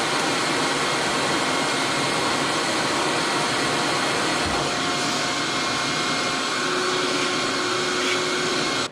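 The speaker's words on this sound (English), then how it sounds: "So make sure you get in here and vacuum it all out every once in a while." A vacuum cleaner roars steadily at close range while sucking paper dust out of a printing machine, one continuous loud whooshing drone that cuts off abruptly at the very end.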